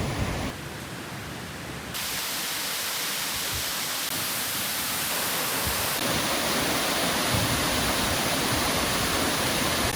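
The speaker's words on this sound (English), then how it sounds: "the whole cascading load of falls going over this little ridge here" Waterfall cascading over a small rock ridge near Ballarat, heard as a steady, loud broadband roar of rushing water that thickens and grows louder partway through, with no voices.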